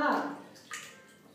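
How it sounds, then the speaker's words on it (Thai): Water runs and splashes as hands are washed before a facial cleanser demonstration, a short close burst of tap flow that fades and then briefly picks up again. "ขั้นตอนแรกก็คือล้างมือให้สะอาด"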